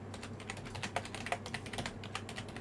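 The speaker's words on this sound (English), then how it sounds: "My keyboard is just pissing me off at the minute." Rapid, irregular keystrokes on a computer keyboard, steady clicking close by with a low hum underneath and no talking.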